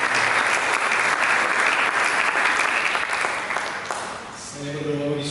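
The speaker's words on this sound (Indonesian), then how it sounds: "Lebih meriah lagi, mari kita berikan tepuk tangan." A church congregation breaks into sustained, energetic clapping, thick and continuous, easing slightly before a voice begins speaking over the last moments.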